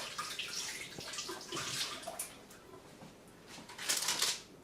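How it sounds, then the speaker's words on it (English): Hands being rinsed under cold running water from a tap while making a layered placek cake, a broad splashing hiss that swells and fades in uneven surges, loudest near the end. "To prevent sticking, I will just rinse my hands with cold water."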